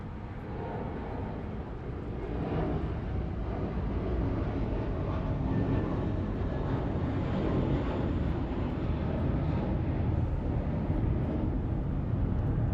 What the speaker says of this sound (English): Right now taking off with JFK, Airbus A320.